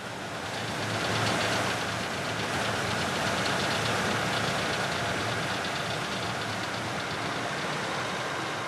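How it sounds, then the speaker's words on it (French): A boat's engine in a Gabon forest river crossing, a fuel line leaking with its seals failed, runs as a steady, loud continuous drone with a rough knocking texture, holding unbroken throughout with no talk. "Puis la puissance du moteur diminue."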